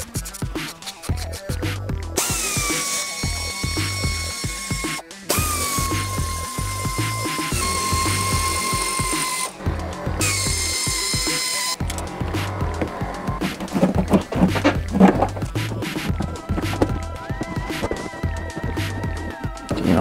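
A power tool works rusted screws loose on a car, giving long whining buzzes that stop and start again, mixed with scratchy scraping and rattling.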